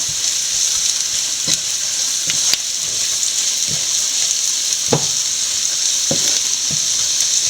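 Coriander powder sautés in a pan for a Kuttanad-style duck roast, giving a loud, steady hiss of frying with regular light knocks and scrapes from stirring.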